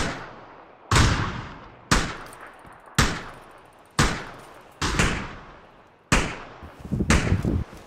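Gunfire in the battle-royale video game PUBG: Battlegrounds, seven loud, sharp single shots spaced about a second apart, each with a quick ringing decay, the last one followed by a rattling burst.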